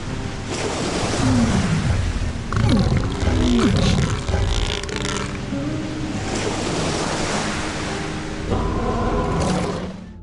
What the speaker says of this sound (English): trying to swim out into the ocean will cause a sea monster to rise out of the water and eat you